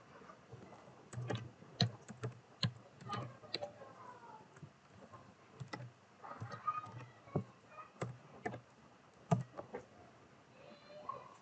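JavaScript code is typed on a computer keyboard, irregular close clicks and clacks in short bursts, with a quiet voice speaking in between.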